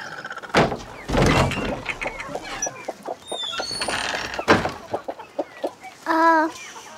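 Chickens cluck in short bursts close by, mixed with a few thumps and a door-like knock, ending with a drawn-out rising squawk; no one talks.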